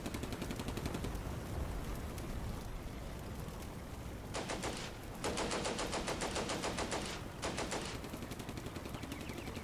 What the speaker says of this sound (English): What does this Maxim machine gun hope to actually do by shooting this half track?